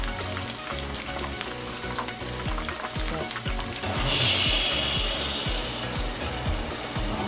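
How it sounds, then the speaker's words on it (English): Steady sizzling of chicken frying in a pot for Nigerian chicken stew, with a louder hiss swelling midway and occasional stirring knocks beneath it. "Frying good."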